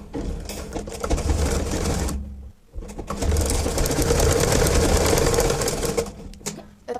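A sewing machine stitches a blouse piece in loud, rapid bursts, a steady mechanical whir that stops briefly in the middle and then starts again, close up with no talking.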